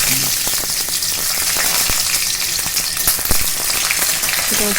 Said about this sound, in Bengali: ওই তেলের মধ্যে আমি ফোড়নে দিয়ে দেবো একটু কালো জিরে আর একটা শুকনো লঙ্কা একটু ফ্রাই করে নেব